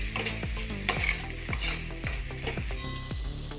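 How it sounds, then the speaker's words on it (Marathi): Spice masala with turmeric, chili powder and curry leaves sautés in a pan, loud close sizzling broken by a regular rhythm of stirring scrapes, no voices. "आपण हे मसाला सगळा परतून घेऊया"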